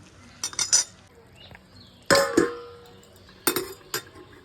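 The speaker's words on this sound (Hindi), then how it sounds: "कुछ देर के लिए ढक देते हैं इसको।" A metal lid set over a pot of cooking desi chicken, giving a few separate clattering clanks and scrapes of metal on metal, close by, with quiet pauses between the knocks.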